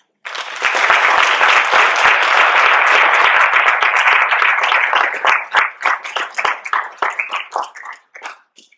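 A Howard University audience bursts into applause welcoming Professor Claudia Rankine to a freshman seminar evening event, a loud, dense ovation that holds steady for several seconds before thinning into scattered, individual claps and trailing off.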